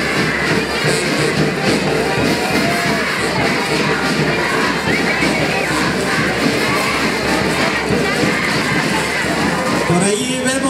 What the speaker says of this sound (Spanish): Ese aplauso que se escuche fuerte en estos momentos está haciendo su